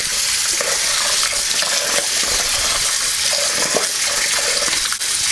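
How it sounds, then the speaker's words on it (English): Rice being washed in hot salted water, a steady wash of running and splashing water filling the scene close up, with occasional louder sloshes and no talking. "So next I'm going to wash the rice."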